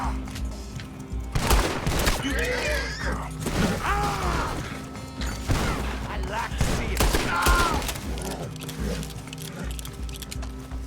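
Video game gunfire in repeated bursts and volleys with whooshing effects, while someone talks briefly over the action.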